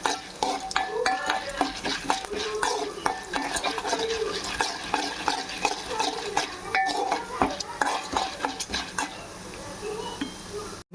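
Food frying in a pan while a spoon turns it, with steady sizzling under rapid repeated metal scrapes and clinks against the pan, close and continuous.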